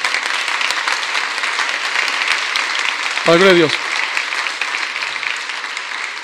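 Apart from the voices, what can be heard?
church congregation applauding the pastor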